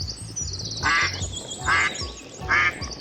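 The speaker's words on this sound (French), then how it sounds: "Voici un gros canard." A cartoon duck quacks three times in evenly spaced, loud, nasal bursts over a faint musical background.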